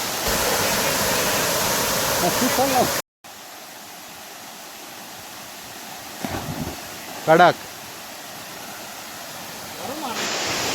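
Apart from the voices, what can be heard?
Ozar waterfall, mountain water rushing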